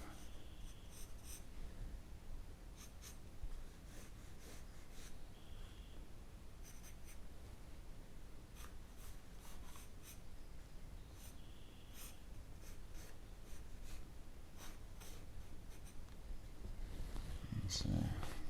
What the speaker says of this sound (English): So let's go ahead and draw this ear real quick here